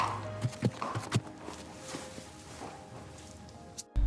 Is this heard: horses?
yes